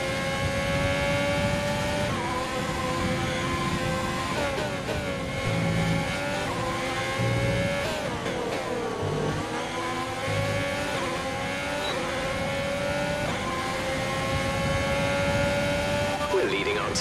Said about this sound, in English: We can turn up the engine to mix mode 3 if you need it.